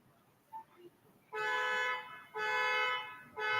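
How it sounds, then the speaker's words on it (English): A car alarm goes off outside, sounding in loud, harmonically rich blasts: a short burst, a longer one, then a third starting as the clip ends, with faint background noise between. "They setting the fucking alarm off for you."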